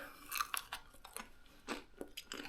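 Homemade moose jerky being chewed up close, with several crunchy bites and wet mastication bursts in an uneven rhythm, no talking.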